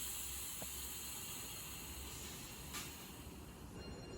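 MBTA Blue Line subway train near Airport station, where it switches from pantograph to third rail: a steady, fairly quiet rumble with hiss and faint high whine, no talk.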